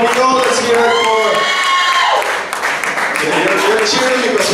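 Audience at a live band concert cheering, whooping and clapping loudly near the stage, the roar dipping briefly before swelling again, with a voice heard through the crowd noise.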